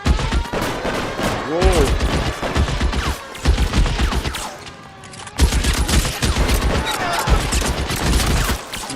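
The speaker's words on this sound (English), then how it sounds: "Open fire!" Dense bursts of gunfire crackle in the L.A. Noire video game, rapid volleys of shots in overlapping loud waves with a brief lull midway, while a player exclaims over them.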